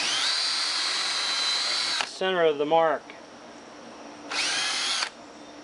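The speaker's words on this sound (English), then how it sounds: "On one set of legs, you can drill right through" A power drill with a 3/16 bit bores through a wooden sawhorse leg in two loud, close bursts of high whine, with someone speaking briefly in the pause between them.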